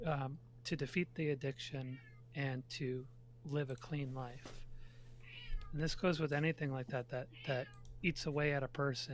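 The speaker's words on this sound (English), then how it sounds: "Sorry. That's my cat." A pet cat named Puka gives several short, close meows, mixed in with a person talking steadily nearby.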